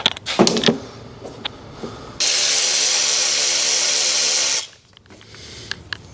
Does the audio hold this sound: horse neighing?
no